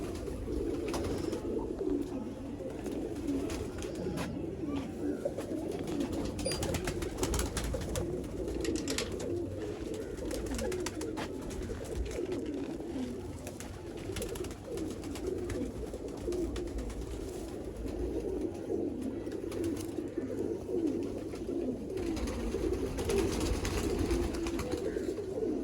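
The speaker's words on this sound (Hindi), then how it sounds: "मैं कबूतर दिखा रहा" Teddy pigeons cooing in a loft, a continuous close chorus of soft overlapping coos and throaty murmurs that carries on without pause and with no voices.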